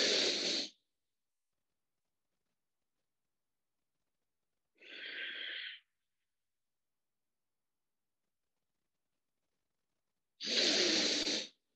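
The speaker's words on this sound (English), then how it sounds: "A long breath in, little hold, and long breath out." Bhastrika pranayama breathing in a yoga demonstration: three separate long, airy breaths, in and out, with long silent holds between them, close and with no talk.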